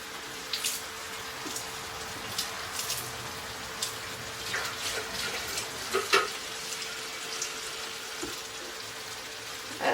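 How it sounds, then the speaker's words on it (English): Water is poured into a pot of homemade chili being made for canning, a steady close rushing splash with a few brighter spatters, and no voices. "And then add some water."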